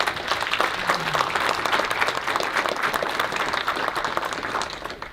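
An audience at a tech conference opening gives a round of applause, a sustained wash of many hands clapping at moderate distance, steady throughout and tapering slightly at the end.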